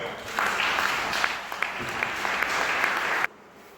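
A church congregation claps and cheers loudly in praise, a dense, sustained burst of applause with sharp individual claps, which cuts off abruptly near the end, leaving quiet room tone.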